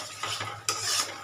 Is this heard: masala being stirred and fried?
yes